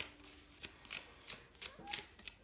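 Tarot cards shuffled and drawn by hand: a series of soft, quick papery riffles and snaps in an irregular rhythm, close and fairly quiet.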